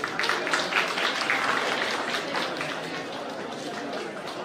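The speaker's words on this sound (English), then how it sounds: "Audience, please clap for the graduates." An audience at a law college degree distribution ceremony in Navi Mumbai claps for the graduates, sustained dense applause with some chatter mixed in throughout.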